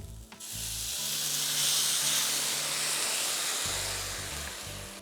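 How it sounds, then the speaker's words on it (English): Pinot Grigio white wine poured into a hot risotto pan sizzles and hisses steadily, a loud, close, continuous steam hiss that swells then slowly eases over a low rumble. "Deglaze your pan with white wine"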